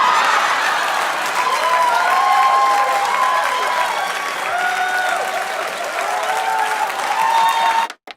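A comedy club crowd gives a big applause break after a joke, a loud, sustained wash of clapping with some cheering and laughter mixed in, running for several seconds before cutting off abruptly.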